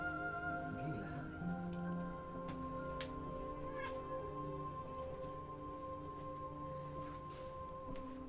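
A cat meows faintly once or twice, with a brief rising wail early on, over steady tonal background music that continues throughout.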